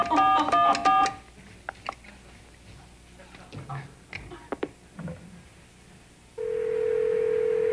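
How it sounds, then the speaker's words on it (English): A red telephone, hooked up to a television studio's sound system, is dialed with a quick run of loud tone beeps, then soft handling clicks and faint voices follow before a steady ringing tone begins near the end. "See, it rings just like normal."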